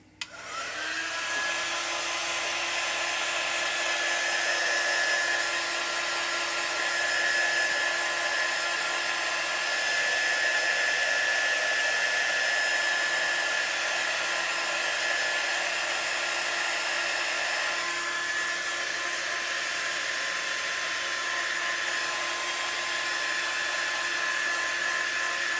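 A hair dryer blows steadily over freshly applied chalk paste for about twenty-five seconds, a constant close whooshing roar with no voices.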